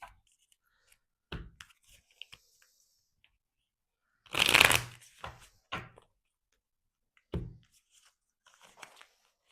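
Tarot cards shuffled by hand in a quiet room, a few short riffling bursts with one longer, louder shuffle in the middle, close and alone without talk.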